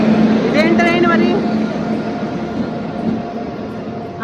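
A train rumbles steadily nearby on a station platform, a low continuous drone under a person talking, with a short burst of other voices near the start.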